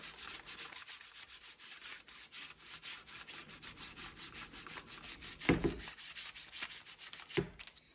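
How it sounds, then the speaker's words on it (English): A part is scrubbed by hand in a plugged-up sink, a rhythmic rasping brush-like rubbing repeated steadily at close range, with a couple of louder knocks partway through. "And scrub it again."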